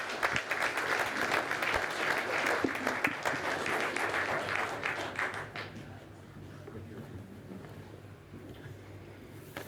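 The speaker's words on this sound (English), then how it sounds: "One round of applause." A round of applause at a community event for a group of gentlemen, dense rapid clapping for about five seconds, then thinning to scattered claps over room noise.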